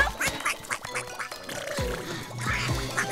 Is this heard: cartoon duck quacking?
yes